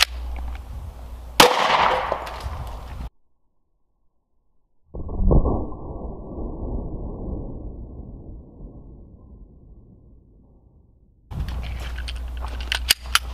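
A Glock 30 Gen 4 fires .45 Hornady hollow-point rounds up close: two loud, sharp reports a few seconds apart, the second ringing out with a long decaying tail before a stretch of background noise.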